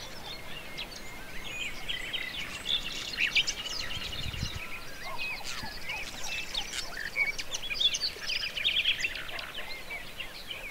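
Songbirds chirp and sing in a flowering orchard in April in Las Villuercas, Spain, with many overlapping short calls throughout, moderately distant and steady, with no voices.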